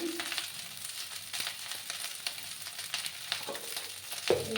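Leftover rice fries in a pan, a continuous crackling sizzle with spatula scrapes and stirring knocks, close and fairly loud throughout.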